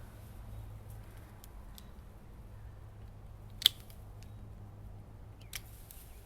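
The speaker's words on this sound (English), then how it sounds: "I'm going to trim this next branch to start opening up this front section of the tree." Pruning shears snip through a branch of a field-grown Seiryu Japanese maple, giving one sharp, close click followed later by a fainter second snap against a quiet outdoor background.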